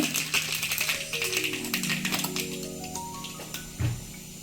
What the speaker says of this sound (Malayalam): കടുക് പൊട്ടി വന്നു